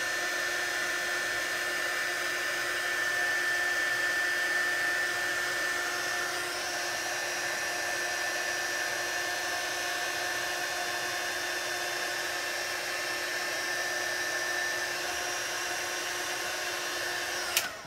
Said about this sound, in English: I'm just holding that heat gun still, and then as soon as that powder melts and changes